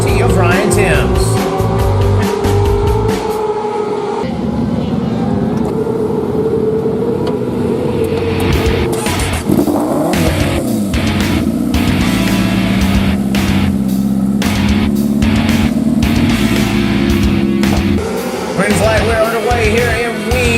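World of Outlaws race cars, including A-Class 600 cars, roar around the track in a heat race, engines rising and falling loudly throughout beneath continuous announcer commentary.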